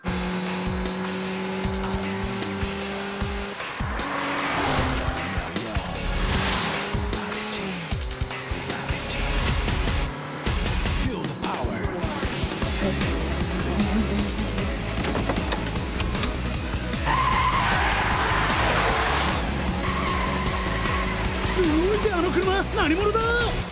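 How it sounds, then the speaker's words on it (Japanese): A car brakes into a downhill drift in an Initial D-style racing scene, with tires squealing and the engine roaring and shifting pitch, mixed with voices talking throughout. "下りのブレーキングドリフト完璧だよ"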